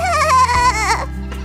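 A baby goat on a farm bleats in a single wavering, crying call of about a second that rises and dips before tailing off, close and fairly loud with no other sounds around it.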